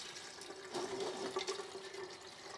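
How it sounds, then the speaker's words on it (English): Filtered tap water pours onto the soil of a potted philodendron, a steady close splashing trickle that swells briefly in the middle and carries on alone with no voices. "I'm going to give this one some water."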